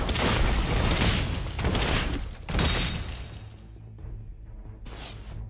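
A turret being destroyed in League of Legends: a loud crashing, shattering burst of debris and booming impacts in several waves that fades out, followed by a brief swoosh.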